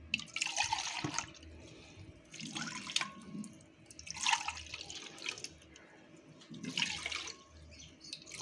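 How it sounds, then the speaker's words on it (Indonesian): Water from a dipper is poured into a pot for making pempek, splashing in a few separate bursts with quiet gaps between, soft and close. "Lalu kita tambahkan air. Airnya kurang lebih 1 gayung ya."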